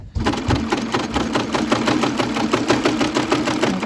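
A sewing machine stitches a seam on a fleece beanie, a fast steady needle rattle running continuously and close, with faint background sound.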